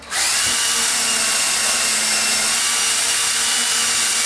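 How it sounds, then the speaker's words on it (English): A power drill whirs loudly and continuously, starting abruptly and holding a steady high-pitched whine as it bores into wood while installing a ceiling fan pancake box. "Drill it some more here."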